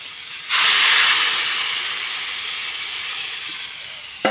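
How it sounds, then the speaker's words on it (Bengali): Water poured into a hot pan of stalk curry sets off a sudden loud, steady hiss that swells at once and then slowly fades, with no talking. "এবার আমি জল ঢেলে দেবো"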